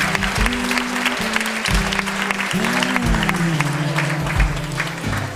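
An audience claps and cheers at a carnival event, with dense, sustained applause under a loud, wavering musical drone.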